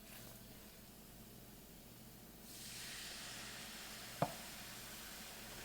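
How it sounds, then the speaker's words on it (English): Water hits a hot pan of browned tomato paste for a ground turkey sauce. After a quiet start, a soft, steady sizzling hiss swells and holds, broken once by a sharp clink. "That sizzling sound tells you I'm deglazing the pan"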